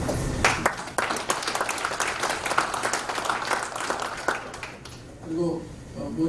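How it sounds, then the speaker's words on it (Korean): An audience at a special Constitution Day lecture marking the centenary of the March 1st Movement claps to welcome Yu Gwan-sun's niece. The lively applause lasts about five seconds and fades into someone speaking. "박수 한번 주십시오"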